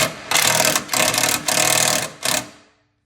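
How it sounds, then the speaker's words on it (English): An 8mm socket ratchet tightens a radiator hose clamp on a Fiat 500 Abarth during a Mishimoto hose install, giving four quick, loud, close bursts of rapid clicking. "we're going to tighten this clamp again with an 8mm"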